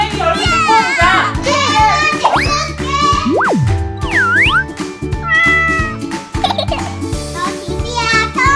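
A pet cat meows several times beside a newly built cat house while children chatter loudly over bright background music with boing-like sound effects.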